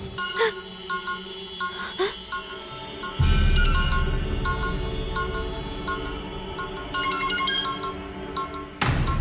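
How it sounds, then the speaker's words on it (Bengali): A phone ringtone plays a repeating electronic melody of bright tones for most of the clip. A louder low rumble joins partway through. "শিবানী প্লিজ ফোন তোল"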